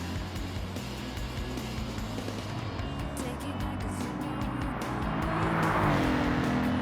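Race car engine in Gran Turismo 7 holding a steady, loud drone at high revs in fifth gear on a short speedway track, rising slightly in pitch toward the end with faint tire noise.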